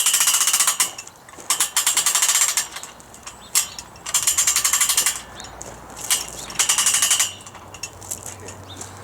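A washing line winch is cranked tight with a 19 mm or adjustable spanner, giving bursts of rapid metallic ratchet clicking separated by short pauses, close and loud.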